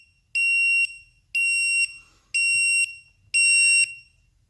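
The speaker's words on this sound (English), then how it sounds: "if any cell goes below 3, the alarm should ring" An ISDT BC-8S battery charger sounds its low-voltage alarm: four loud, evenly spaced electronic beeps, each about half a second long, with short silences between and no voices.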